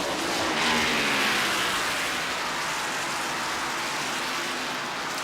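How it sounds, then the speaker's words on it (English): NASCAR stock cars racing at Richmond Raceway during the 1994 Pontiac Excitement 400, a dense continuous roar of engines and crowd blending into a loud, steady broadband wash. "We still have 30 cars on the racetrack yet after 300 laps of racing."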